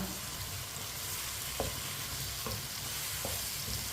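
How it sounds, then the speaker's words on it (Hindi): Tinda and potato curry sizzling steadily in a pan over medium heat, a soft continuous fry with three light scrapes of a spoon stirring it, close and quiet. "अब इसे मीडियम आंच पर 2 मिनट के लिए पका लेंगे। थोड़ा सा भून लेंगे इसे।"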